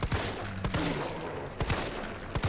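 Gunfire from the Resident Evil 3 video game comes as a rapid series of loud, sharp shots in quick bursts with brief gaps, and no talking.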